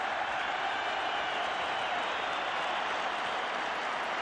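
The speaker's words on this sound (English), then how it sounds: "And listen to the crowd." A football stadium crowd at a 1989 Republic of Ireland versus West Germany international friendly roars during a substitution, a constant, dense wall of cheering and applause that holds at the same level throughout.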